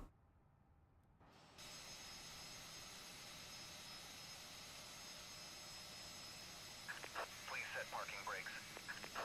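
A Fenix A320 jet engine spools up during start in Microsoft Flight Simulator 2020, heard from the cockpit as a steady rising whine and roar over a low background hum, with a burst of radio-like chatter near the end.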